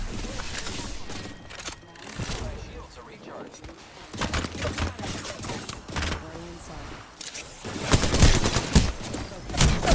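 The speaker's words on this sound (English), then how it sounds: "another team shooting me?" Rapid bursts of video game gunfire crackle in uneven volleys, some close and loud, others more distant, with a voice talking over parts of the shooting.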